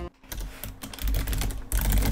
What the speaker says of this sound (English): Who's going ham on the keyboard?